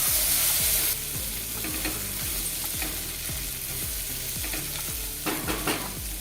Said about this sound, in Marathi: गाजर फ्लावर घेतलाय मी आणि मटार हे थोडंसं परतून घ्यायचं